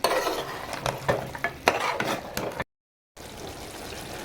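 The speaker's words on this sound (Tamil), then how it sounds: "இதை வந்து லைட்டாக மிக்ஸ் பண்ணி விட்டுலாம்." A spoon scrapes and stirs chicken pallipalayam in a hot pan just after black pepper goes in, with light sizzling under the rhythmic stirring strokes, close and fairly loud, cut by a brief gap of silence.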